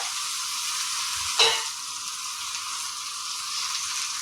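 Potatoes, beans and tomatoes frying in a pan for spicy aloo beans sabzi, with a steady bright close sizzle throughout and one brief louder clatter as something is stirred or added.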